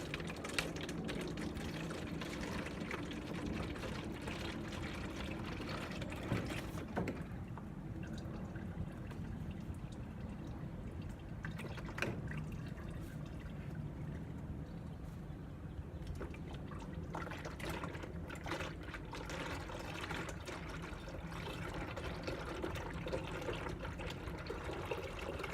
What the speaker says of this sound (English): Pour half of it into an empty gallon jug.